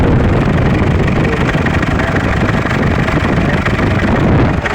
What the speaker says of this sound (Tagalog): Ito, yumayanig ang ating makina.